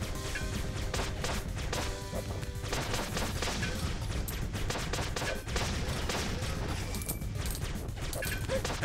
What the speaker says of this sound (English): Again, with the indoor cannons.